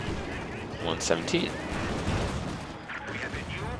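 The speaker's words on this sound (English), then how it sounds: "I have my mortar going down here" Mortar rounds and gunfire from Company of Heroes 2 crack and thud in a busy battle mix, with repeated bursts over a steady rumble while someone talks throughout.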